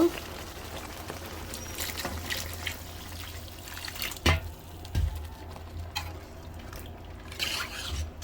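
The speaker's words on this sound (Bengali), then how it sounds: "এখন আমি পানি দিয়ে দেব।" Water poured into a cooking pot in a home kitchen, a soft trickling stream with a few clinks and knocks of the pot, fairly quiet and close, with no talking.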